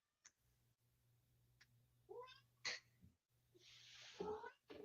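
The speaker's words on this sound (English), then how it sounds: "Sorry, the cat's making noise." A house cat meows several times in the background of an otherwise quiet indoor room, the calls short and fairly soft, with a faint steady hum beneath them.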